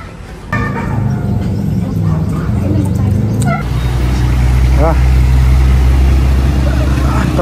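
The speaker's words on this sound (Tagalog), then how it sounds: "Traffic." Road traffic near the Tagaytay Rotonda, a steady loud rumble of car and bus engines with wind noise and a passing engine swell, heard alone without talk.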